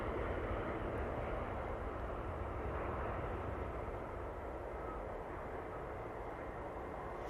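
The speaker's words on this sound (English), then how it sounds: "the mighty Emirates A380" An Emirates Airbus A380 airliner at Manchester Airport, heard as a steady broad engine roar that holds for several seconds at a moderate distance with no voices over it.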